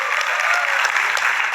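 A crowd at a live comedy and talk event bursts into loud, continuous applause. The thick wash of clapping holds steady throughout, with faint voices mixed in.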